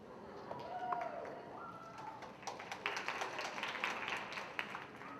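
An audience at the Mr. Vineland 2022 pageant applauds, a steady patter of claps with scattered sharper slaps and a few brief whoops, moderately distant and sustained across the moment.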